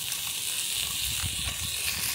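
Steak sizzles in a hot pan on a stove: a steady, close, crackling hiss with small irregular pops throughout, with no talking.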